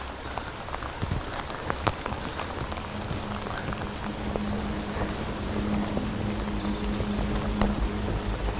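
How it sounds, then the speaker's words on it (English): Heavy pouring rain drums steadily on surfaces and gear during a mountain goat hunt, a dense continuous hiss that swells slightly louder toward the end, with faint wind and a low hum underneath. "Yeah, pouring rain."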